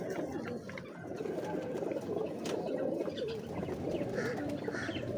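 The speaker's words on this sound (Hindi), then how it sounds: "ये रामपुरी कबूतर है" A Rampuri pigeon cooing up close, soft repeated throaty coos over a busy background of other pigeons and faint rustling.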